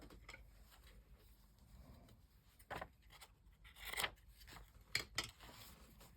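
Quiet, close snips of scissors cutting paper, a few crisp irregular cuts with soft rustling between them in a calm room.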